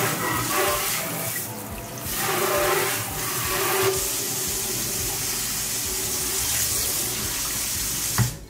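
A newly installed pull-down kitchen sink faucet runs water steadily into the sink, a continuous close rushing stream with slight shifts in tone and a brief clunk near the end.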